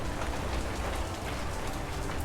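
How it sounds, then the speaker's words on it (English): Dense, steady patter of hail striking a tarp, a continuous hissing clatter without pauses, fairly close. "I'm starting to see more hail starting to come outside, landing out there in the road."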